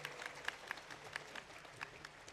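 An audience claps at a spiritual camp gathering in Kanpur, a steady patter of many hands with a few sharper individual claps standing out, moderately distant and without talk.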